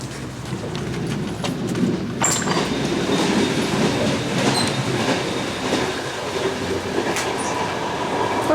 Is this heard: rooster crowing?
no